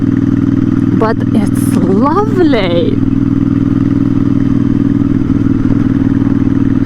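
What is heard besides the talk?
custom Royal Enfield Interceptor 650 motorcycle engine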